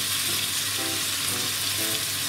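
Eggplant and cucumber stir-fried with pork in a hot pan, giving a loud, steady sizzle with faint stirring scrapes and no talk.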